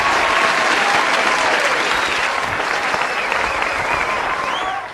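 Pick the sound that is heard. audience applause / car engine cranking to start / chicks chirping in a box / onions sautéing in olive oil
audience applause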